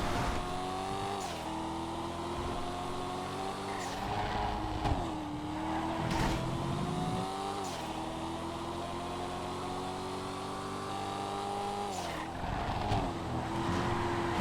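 A Project Homecoming mod car drives in GTA FiveM, its engine holding a steady loud drone. There are a few rising revs and a shift dip near the start and the end, and no talk over it.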